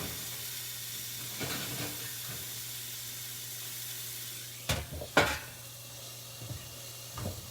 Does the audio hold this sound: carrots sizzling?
yes